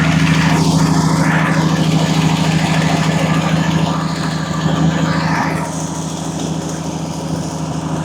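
A homemade skidder engine runs steadily while the machine drives, a loud, close, continuous drone with a strong low hum that eases slightly partway through.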